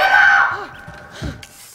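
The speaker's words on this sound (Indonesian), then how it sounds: "Mereka mendengar jeritan seseorang yang sepertinya sedang terluka." A brief, strained wail of pain rises and fades, followed by a shorter groan, close and fairly loud.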